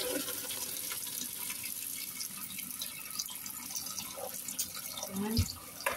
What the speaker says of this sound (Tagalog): pag binuhos ko, steady ko lang yung tubig para hindi masira yung ating drainage